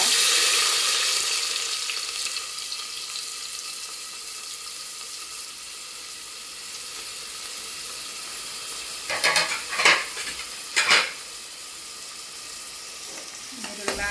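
Onions frying in oil for mutton pulimunchi give a steady, close sizzle that stays even throughout, broken near the end by a few sharp clatters of stirring.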